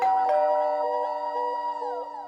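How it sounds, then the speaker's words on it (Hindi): A doorbell rings with a clear ding-dong chime, repeating tones that ring out and slowly fade, alone and close. "अबे डोरबेल बज रही है, तू फोन देख रहा है?"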